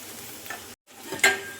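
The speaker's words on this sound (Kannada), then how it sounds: "ಇವಾಗ ಪನ್ನೀರನ್ನು ಟರ್ನ್ ಮಾಡ್ತಾ 2ರಿಂದ 3 ನಿಮಿಷ ಆಗುವಷ್ಟು ಫ್ರೈ ಮಾಡ್ಕೊಳ್ಬೇಕಾಗ್ತದೆ." Paneer pieces fry in a pan and are turned, making a short burst of sizzling and scraping that drops out briefly, then returns with a sharper stir.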